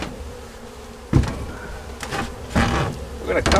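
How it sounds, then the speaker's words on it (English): Honeybees buzz around an opened hive during a November hive removal, a steady close drone with occasional louder swells as insects pass near, punctuated by a few handling knocks. "We're gonna draw these bees in that box, leave the beetles behind."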